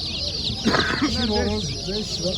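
Chicks cheep in quick, high-pitched chirps at a poultry market in Kırıkkale, Turkey, close by and continuous, with a low voice briefly murmuring underneath.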